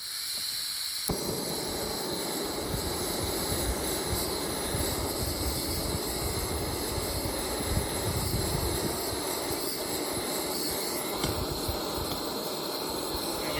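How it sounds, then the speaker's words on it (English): A camping jet burner roars on high heat with a loud, steady, hissing rush that starts abruptly after a moment of quiet and holds constant, close by, with no talking. "this jet burner really fires up"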